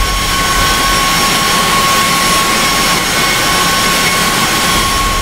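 A simulated Airbus A320 taxiing in X-Plane 10, its jet engines giving a loud, unbroken roar with a steady high whine on top and a rumbling low end, with no talk.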